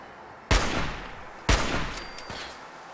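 Enemy rifle fire in Fallout 3's Point Lookout: two loud, sharp shots about a second apart, each ringing out into a decaying tail, then a fainter third crack near the end.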